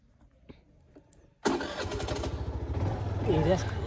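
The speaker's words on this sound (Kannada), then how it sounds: "ಸೊ ಬೈಕ್ ಆದರೆ ಆನ್ ಮಾಡಿದ್ದೀನಿ ಇವಾಗ" Quiet at first, then a motorbike engine fires up abruptly and settles into a steady, close idle, with a voice speaking over it.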